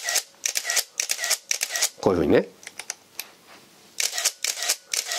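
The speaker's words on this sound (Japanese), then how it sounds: "ここのシャッターボタンではなくてモータードライブのボタンを押すことによってシャッター切れるん" A Nikon Zf mirrorless camera with a motor drive attached fires rapid bursts of crisp, close shutter clicks, repeated in quick clusters, with someone briefly speaking in the middle.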